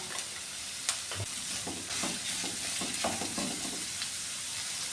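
Sliced onions and shallots hit a frying pan with curry leaves, producing a dense, continuous sizzle with repeated stirring scrapes throughout.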